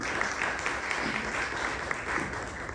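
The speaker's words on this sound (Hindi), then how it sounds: "सबसे पहले तो एक बार जोरदार तालियां बजाइए" Loud, steady applause from an audience at a live music program, a dense continuous roar of many hands clapping that fills the whole clip with no talking over it.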